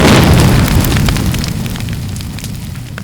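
A film special-effects explosion's loud, roaring aftermath, a broad rumbling blast that slowly fades with crackling debris.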